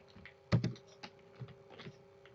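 Someone types Python code on a computer keyboard: a quick burst of loud clacking keystrokes followed by a few softer, scattered taps, heard close with no speech.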